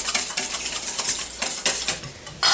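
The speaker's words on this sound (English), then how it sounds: "we're just putting them in a large bowl and whisk them up" Four egg yolks whisked in a large bowl, a quick run of light, close clinks and scrapes of metal against the bowl, ending in a louder burst.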